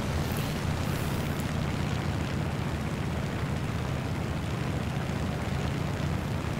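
A propeller aircraft engine drones steadily in a flight combat video game, a loud continuous rumble with no speech over it.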